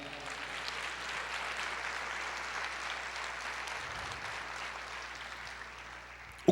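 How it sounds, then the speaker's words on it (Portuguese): A church congregation applauds in steady, sustained clapping that fills the room evenly for several seconds before fading slightly at the end. "Você pode aplaudir o Senhor?"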